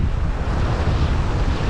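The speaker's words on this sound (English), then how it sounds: "As you can see, the sea is still pretty lively." Rough, lively sea waves crash on the shingle of Chesil Beach at Abbotsbury under a strong wind that buffets the microphone, a loud, continuous roar close by with no voices.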